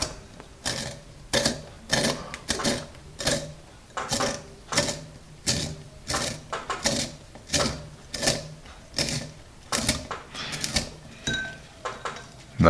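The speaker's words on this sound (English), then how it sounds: "let's start sharpening with the included sharpener here." Apsara Extra Dark pencil turned in its included sharpener, a steady series of about fifteen short scraping grinds in even rhythm, close and fairly loud, with no talk.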